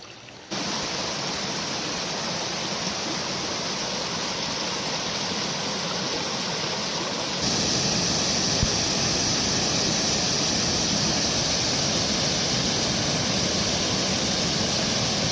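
Steady rushing water of a creek flows continuously, a broad even roar that grows slightly louder partway through, with no voices.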